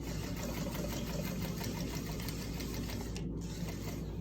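A sewing machine runs continuously at a steady, rapid stitching rhythm while back-tacking over thick folds of a fabric medical mask, heard close up and fairly quiet, with a brief dip near the end and no talking.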